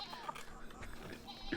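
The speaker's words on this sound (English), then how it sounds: "Fucking sheep." Sheep bleat in the video game Pentiment, a few short, faint bleats under a quiet game ambience with a voice talking over them.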